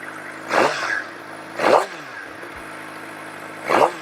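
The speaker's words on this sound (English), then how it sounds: "you can actually hear the engine more." A Suzuki GSX-R600 engine with a Yoshimura Alpha slip-on exhaust revs three times in short, sharp bursts, with a gravelly exhaust note rising and falling between a steady idle.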